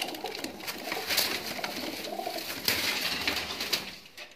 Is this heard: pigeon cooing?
yes